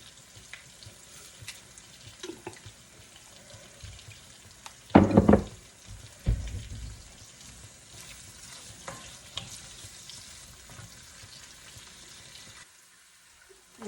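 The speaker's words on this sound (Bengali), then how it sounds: "এখানে পেঁয়াজ আর রসুন শুকনো মরিচ ভাজা হয়ে গেছে" Onion, garlic and dried chili fry in a pan with a soft, continuous sizzle, broken by a few louder clattering stirs and scrapes near the middle; no talking.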